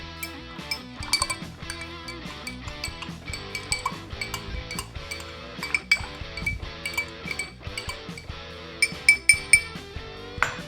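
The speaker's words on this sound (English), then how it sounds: "let's give this a stir since we added in that syrup" A pumpkin spice cocktail with added syrup is stirred in a glass, giving repeated light clinks and taps of a spoon against the glass, with bright ringing accents toward the end and no talking.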